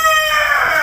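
A rooster crows loudly and close by in one short, strained call.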